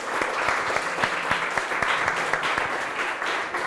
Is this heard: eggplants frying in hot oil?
no